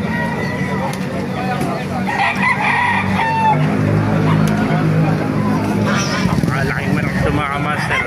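Chickens and roosters at a crowded poultry market, several cocks crowing and hens clucking amid a busy din of voices and passing traffic, the crows rising in bursts over the steady background.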